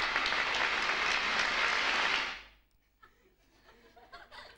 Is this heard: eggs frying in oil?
no